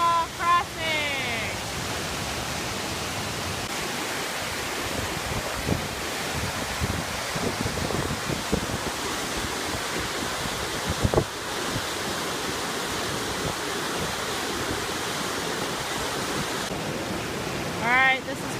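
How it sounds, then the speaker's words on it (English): A waterfall and rushing river at a wilderness trail crossing on the John Muir Trail roar as loud, continuous broadband water noise, close by, with some wind buffeting on the microphone. "The famous waterfall crossing."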